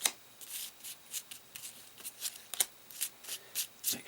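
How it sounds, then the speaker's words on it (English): Warhammer Quest adventure game cards being shuffled by hand, a run of about a dozen crisp riffling bursts at a steady rhythm, close and moderately quiet with no talking. "I'll give them a shuffle and then we'll come back."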